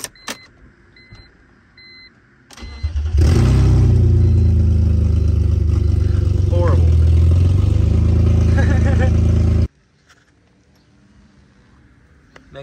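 A BMW E46 330 with a very loud exhaust while driving: a quiet cabin opens the moment, then a heavy, droning engine and exhaust roar takes over for about six seconds before cutting off abruptly back to near quiet.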